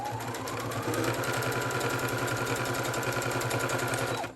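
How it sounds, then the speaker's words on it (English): Sewing machine running steadily as it stitches the side seam of a basic blouse at about 1/8 inch, a continuous fast mechanical whir and chatter held close and loud throughout with no talking. "what I'm doing now is I'm doing the side stitch for the turning."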